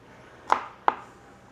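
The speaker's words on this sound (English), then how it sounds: "it's important to cut all this up to release the good stuff in the garlic and the shallots" A knife chops garlic and shallots on a cutting board: two sharp, close chops about a third of a second apart, with nothing else around them.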